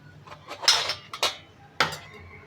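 Metal puja utensils clink and knock together as they are scrubbed until shiny, in a few sharp close clatters separated by soft rubbing, fairly quiet overall.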